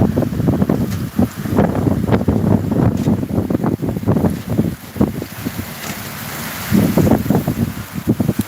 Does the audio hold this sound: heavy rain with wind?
yes